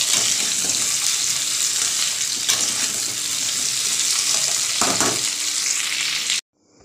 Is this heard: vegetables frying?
yes